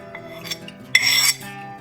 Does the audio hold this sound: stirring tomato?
yes